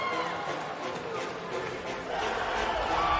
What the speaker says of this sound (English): Cheering for them.